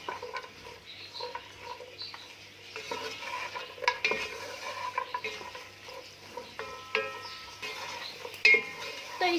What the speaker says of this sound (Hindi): एक से 2 मिनट हम इन्हें हल्की आग पे रोस्ट करेंगे।